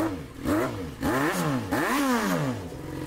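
A motorcycle engine revs up and down in several sharp bursts, its pitch sweeping high then dropping, close and loud, with a synthetic game-like tone.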